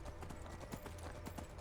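Horse hooves clip-clop in a steady quick rhythm as a mount is ridden along a river in the video game Skyrim, faint and continuous with no talking.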